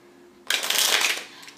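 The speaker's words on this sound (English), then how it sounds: "the spectators shuffle the cards" A quick burst of card shuffling, a riffling flutter lasting about a second after a quiet start, then fading out.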